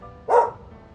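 A single short dog bark, fairly close and loud, sits outdoors on a hot, noisy summer day against a low background hum.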